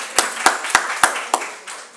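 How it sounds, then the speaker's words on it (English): A handful of sharp, separate hand claps ring out in a slow, even rhythm, about five in two seconds, sparse rather than a full crowd, following a mentoring session at a conference. "let's give them a big round of applause."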